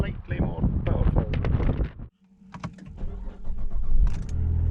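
Cadillac BLS 2.8 V6 turbo fitted with a new, more powerful battery cranks briefly and then settles into a steady, close idle, with voices talking before the start.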